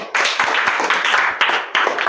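A small group of children claps steadily for a couple of seconds, close and fairly loud, with no talking.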